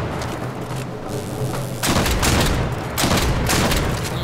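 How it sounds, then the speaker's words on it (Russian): A shotgun fires in the video game Warframe: loud blasts with broad, booming bursts, a couple of heavy shots that overlap one another over a short stretch, with no talking. "Дробовик, да, стреляет, вот."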